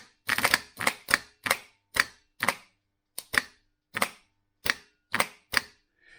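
A starter motor's pre-engage solenoid is being tested on a workbench, giving a series of about a dozen sharp, dry clicks at uneven intervals, close and isolated with silence between them.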